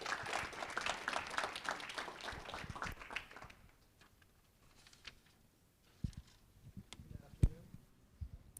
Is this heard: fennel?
no